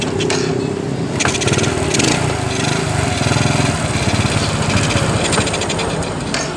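Honda Grand motorcycle engine turned over with the starter and running, a steady close buzzing idle with a rapid mechanical ticking rhythm throughout.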